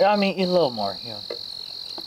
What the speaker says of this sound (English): What is all the noise? Cricket? Bats, crickets, cicadas.